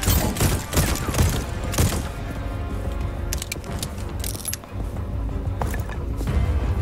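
Rapid gunfire in the video game Voidtrain, dense bursts of shots and mechanical clatter layered with busy game noise at steady high loudness.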